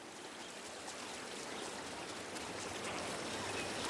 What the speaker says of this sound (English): The Shashi River is now in full flow.